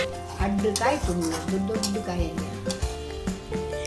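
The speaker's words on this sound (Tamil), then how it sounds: "இப்போது கரண்டியால் நல்லா மிக்ஸ் பண்ணி விட்டுக்கிட்டே இருக்கணுங்க." A ladle stirs a thick coconut burfi mixture in a pan on the stove, with repeated scraping strokes and a low sizzle, close by.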